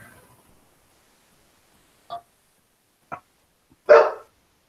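A dog barks three times in the near distance, two short sharp barks a second apart followed by a louder, fuller bark, with silence between them.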